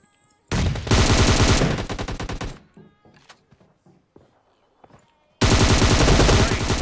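Automatic gunfire in the mobile battle royale game PUBG Mobile: two loud, sustained bursts of rapid shots, the first lasting about two seconds, then quieter scattered sounds, then a second loud burst near the end, with no talking.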